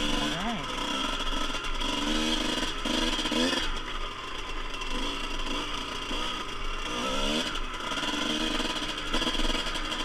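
A Kawasaki KX125 two-stroke dirt bike engine revs continuously through a night ride in snowy, cold conditions, buzzing loud and close with rising and falling throttle over steady wind and rattling.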